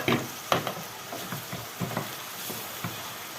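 Meat and garlic sauté in oil in a pan with a steady close sizzle, punctuated by several sharp clacks and scrapes of stirring.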